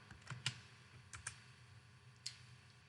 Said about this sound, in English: You can just start typing down here in the chat